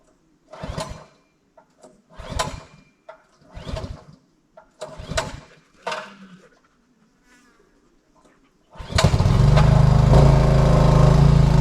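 A small tractor engine starts near the end after several spoken phrases and pauses. It catches and settles into a loud, steady running drone that continues to the end.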